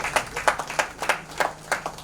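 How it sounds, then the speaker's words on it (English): Clapping from a small group, a steady patter of distinct hand claps at moderate volume, fairly close. "A round of applause, ladies and gentlemen."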